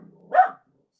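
A dog gives a single short bark, close and fairly loud, at people running past, with quiet surroundings before and after.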